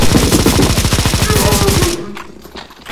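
Rapid automatic gunfire aimed at a boss in CSGO Zombie Escape, a loud, fast, evenly spaced burst of shots lasting about two seconds, then cut off into quieter game noise.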